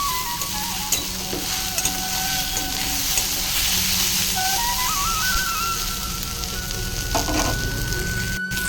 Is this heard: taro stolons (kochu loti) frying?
yes